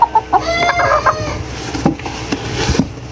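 Gamefowl stags, Papay Gray over Kelso crosses, cluck and crow nearby in an outdoor pen, with a burst of loud calls early on followed by scattered softer clucks and background noise.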